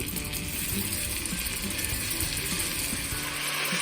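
Mushrooms sizzle loudly in a hot pan, a steady, dense crackling hiss that runs unbroken from start to finish with no voices.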